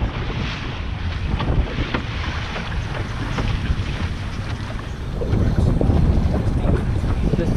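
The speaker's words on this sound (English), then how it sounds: "turn that engine on" A motorboat out on open water during a sight-fishing and spearfishing trip runs with a steady engine drone under heavy wind buffeting and wave splash. The noise is loud and continuous throughout.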